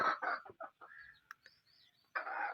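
A hen, bought for 1500 rupees and settled on eggs, clucks close by in short, broken bursts with brief silent gaps between them. One longer burst of clucking comes at the end.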